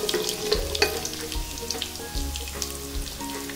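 Mustard seeds, cumin and four dry red chillies fry in hot oil for a Telugu dosakaya pappu tempering, giving a steady close sizzle broken by sharp popping crackles, with no voices.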